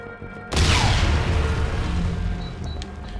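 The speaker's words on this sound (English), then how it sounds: "Oh, that's a nade." A grenade goes off in the sci-fi shooter Mars Aeternum: Infinite Warfare, a sudden loud boom that rolls into a long, rumbling decay lasting several seconds with no voices over it.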